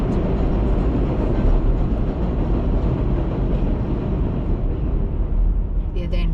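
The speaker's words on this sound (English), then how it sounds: "wait until the train passes" A New York City subway train rumbles past close by in a steady, loud roar of wheels and rails that fills the whole stretch, easing slightly near the end.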